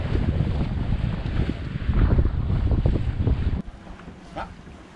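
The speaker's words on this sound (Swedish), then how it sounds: "Det blåser 9 knop nu." Strong wind buffets the microphone aboard a sailboat at sea, a loud gusty roar that drops off abruptly near the end to a quieter rush of air and water.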